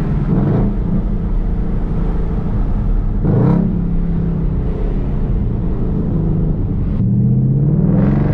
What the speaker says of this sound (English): That's called clutch engage.